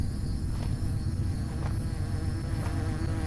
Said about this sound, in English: Why are there so many bees?